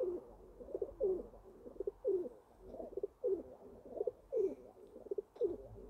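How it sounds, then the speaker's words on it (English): Pigeons in a loft coo close by, soft rhythmic throaty calls repeating roughly every half second, no one speaking. "I just want to keep my pigeons safe and secure."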